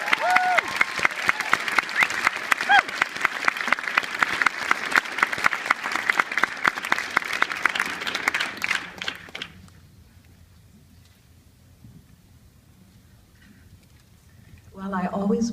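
An audience at the Mayor's Arts Awards applauds community arts award winner Dr. Patti Fraser with dense, sustained clapping for about nine seconds. It then drops to near silence before a voice starts at the end.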